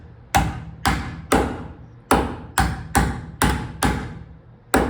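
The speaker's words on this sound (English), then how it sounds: "I can just hammer that back down" A hammer strikes sheet metal on the roof of a 1965 Mercury Comet Cyclone under repair, giving about ten sharp, ringing blows at an uneven pace, close and loud.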